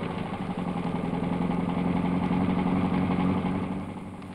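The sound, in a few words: farm tractor engine running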